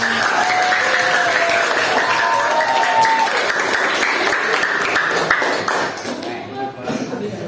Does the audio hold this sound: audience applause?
yes